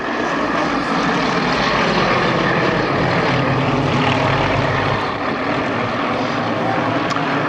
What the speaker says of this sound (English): And there is Dave Boardman, Aerostar 6 departing the formation as they come down out of the loop.